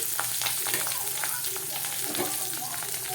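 Curry leaves, two dried red chillies and onion fry in oil for drumstick sambar, giving a close, busy sizzle with sharp crackles and spatters throughout.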